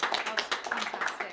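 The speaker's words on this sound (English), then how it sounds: "can we just have a massive thank you and round of applause?" Brief scattered clapping from a small audience at the close of a modern orchestration session, a handful of distinct hand claps overlapping with a voice speaking.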